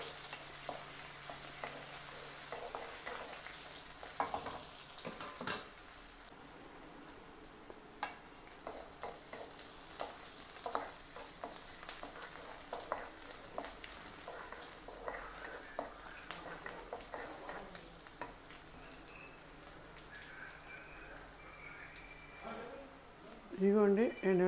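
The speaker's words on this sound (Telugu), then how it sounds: "ఉల్లిపాయలు మంచి కలర్ వచ్చే వరకు వేయించుకోవాలి మనం" Onions frying in a pan for a Telugu bottle gourd (sorakaya) curry with sesame powder, a steady soft sizzle running throughout with occasional stirring clicks and scrapes, mid-close, under a person talking.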